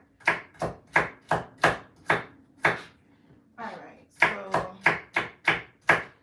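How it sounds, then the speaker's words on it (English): A knife chops carrots on a board in quick, sharp, evenly spaced strokes, pausing briefly while someone speaks a few words. "I'm chopping the carrots"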